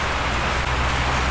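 Steady rain falls as a dense, even hiss, close and fairly loud, with a low rumble underneath and no talk.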